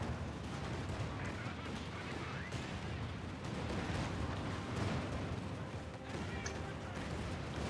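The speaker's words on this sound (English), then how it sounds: "Nice Katyusha barrage." A Katyusha rocket barrage pounds away in the Company of Heroes 2 video game, a dense continuous roar of rumbling blasts and crackling impacts under talking commentators.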